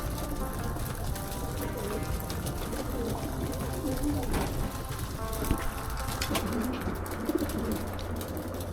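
Several pigeons coo softly and steadily in a racing loft at feeding time, a low murmuring bed with faint rustles and occasional knocks.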